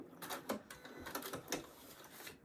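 A sewing machine stitching a paper-pieced quilt block, running in a quick, steady rattle of needle strokes, quiet and close.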